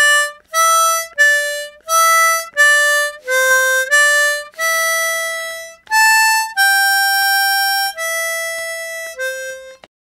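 A harmonica plays the melody line of a song, taking the variation down to the four hole, as a string of about a dozen clear, sustained reedy notes in a steady rhythm, close and solo with no talking.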